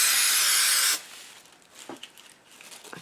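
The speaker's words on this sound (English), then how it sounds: "I'll spray an even coating of this onto the card." A loud, steady aerosol spray hisses onto a paper card for about a second, then stops, leaving faint rustling and small handling noises.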